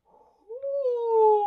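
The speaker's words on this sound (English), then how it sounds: "You can't be yawning yet." A single drawn-out human yawn, close and fairly clear, slides downward in pitch and ends with a soft breathy trail.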